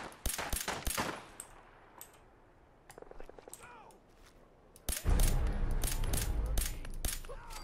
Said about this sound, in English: I'm gonna use my pistol here.